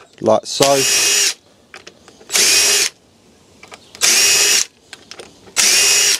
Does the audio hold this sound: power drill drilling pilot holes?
yes